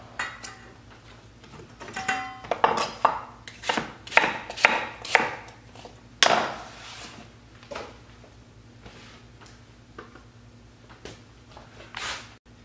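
Apples being chopped into smaller bits on a cutting board: a burst of close, sharp knife strikes in quick succession, then sparser, fainter taps trailing off.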